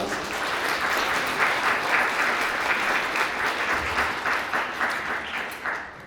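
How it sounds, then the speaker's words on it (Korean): Wedding guests applauding at a ceremony, a continuous wash of clapping from a full hall that holds steady and starts to thin toward the end, with no voices over it. "아버님께 다시 한번 축하의 박수 부탁드립니다"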